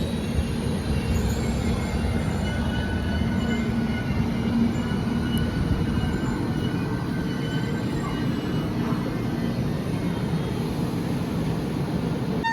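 Train leaving Honnavar railway station, with a steady loud rumble of wheels on the rails throughout and a faint squeal of wheels partway through.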